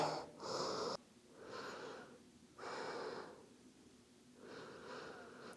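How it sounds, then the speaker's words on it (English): Deep, slow cleansing breaths during a yoga flow in a kneeling, arms-forward rest pose: several long inhales and exhales in turn, airy and fairly close, with no talking. "Some big cleansing breaths here."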